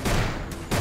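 Rapid bursts of gunfire in a retro Roblox shooter game, dense and loud, with a brief break in the middle before the shooting resumes.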